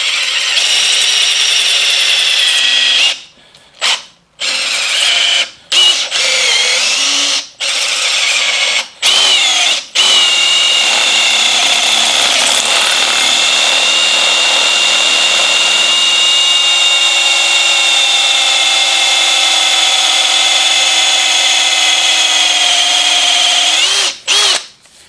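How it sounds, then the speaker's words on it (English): A power tool whines loudly and continuously while trimming PVC, with several abrupt stops and restarts early on, then a long steady grinding run to the end. "Obviously, we want to trim off as much of the PVC as possible."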